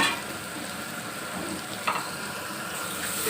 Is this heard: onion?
yes